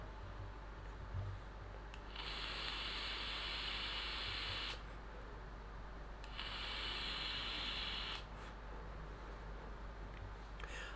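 Airflow ring being set halfway on a Uwell Arglos P1 pod mod, followed by two airy draws on the device, each a hissing rush lasting around two to three seconds over a faint steady hum.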